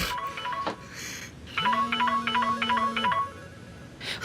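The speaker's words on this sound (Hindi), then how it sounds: "फोन किसका बज रहा है अंदर?" A phone ringing indoors in a drama scene, a repeating electronic ringtone melody of short bright tones over a sustained low tone, clear and moderately loud with room noise before and after.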